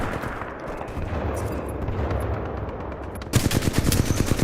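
Rapid gunfire from the video game Titanfall 2 in a multiplayer match: a steady stream of shots under dense game noise, ending in a louder, sharper burst of close rapid fire.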